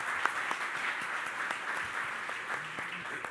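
A crowd applauds together at a Michelin NCM Bash event, a fairly soft and distant wash of steady clapping that continues evenly from start to finish, with a few individual claps standing out.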